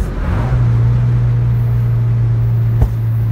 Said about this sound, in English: So let's try to get a loud one for you guys. I'm going to downshift into fourth.